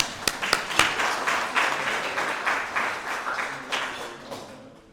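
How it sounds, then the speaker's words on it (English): Club members at a Rotary Club meeting applaud in a room, a few sharp individual claps at first building into steady moderate clapping that gradually fades. "So let's give all these folks a round of applause."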